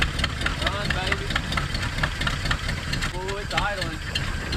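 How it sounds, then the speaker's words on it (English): An old Jeep Wagoneer engine, abandoned for decades and running on a carburetor, idles roughly with a steady uneven mechanical rumble at close range. "Oh, it's idling."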